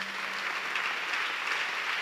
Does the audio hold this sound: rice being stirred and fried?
no